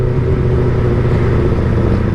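Kawasaki ZX25R motorcycle running through a local Purbalingga aftermarket exhaust, a loud, steady, dense engine rumble close up, holding an even drone with no talking.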